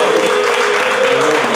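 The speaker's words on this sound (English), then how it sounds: "Y'all should clap for that if you know." An audience at a live talk applauds in a brief, dense burst of clapping, loud and continuous.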